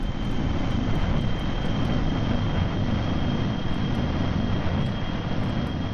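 Jet engines spool up on an aircraft in the video game Kerbal Space Program, a steady, loud, even roar that holds for several seconds without talk.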